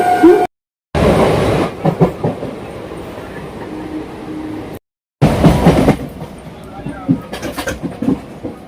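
A local train rumbles and clatters into platform 3 of a busy station, with people talking nearby and brief gaps of silence between stretches of sound.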